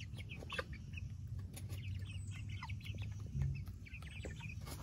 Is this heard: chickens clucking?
yes